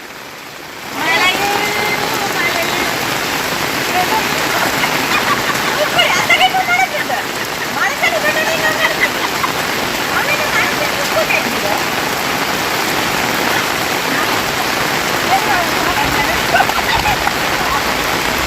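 Steady rain pours down during a Jaffna outing, a dense, continuous hiss that starts abruptly and holds loud throughout, with people talking faintly beneath it.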